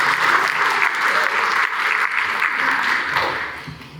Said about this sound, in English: Let's give them a little clap and some encouragement.